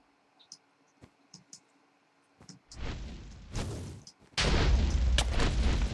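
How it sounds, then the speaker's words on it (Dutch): A loud explosion in the Minecraft game, a sudden broad roar that swells, dips briefly and then bursts back even louder and sustained, following a few quiet clicks. "wat een ontploffing"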